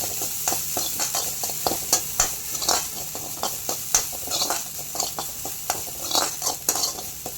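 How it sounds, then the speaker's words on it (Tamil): Grated coconut roasting in a kadai for Kerala ulli theeyal, with repeated scraping stirs of a spoon against the pan over a soft, steady frying sizzle, close and moderately loud, no talking. "இப்போ அதே கடாயில் திருகி வச்சுருக்கிற தேங்காய் திருகல் நல்லா கோல்டன் ப்ரௌன் வரணும்"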